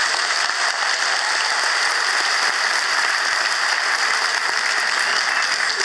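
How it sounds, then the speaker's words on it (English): Dense, even applause from a large crowd at an Irish citizenship ceremony in Dublin, honoring a Garda band, sustained and loud with no pauses or speech over it. "Can we give them a big cheer and a round of applause?"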